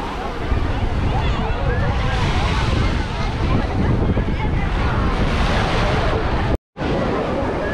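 Ocean surf washes continuously onto a busy beach in Sri Lanka, a loud, close roar mixed with wind buffeting the microphone and a faint babble of people, broken by a brief dropout near the end.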